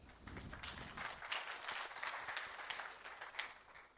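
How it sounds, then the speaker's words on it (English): Applause from a business summit audience in Islamabad, a fairly faint but steady patter of many hands clapping that continues for a few seconds. "A round of applause, please."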